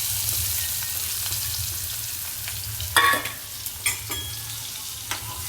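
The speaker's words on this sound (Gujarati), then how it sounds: "પછી આપણે એમાં ડુંગળી વઘારીએ" A steady sizzle of onions frying in oil with turmeric and coriander-cumin powder, joined by a few sharp stirring scrapes and clicks partway through.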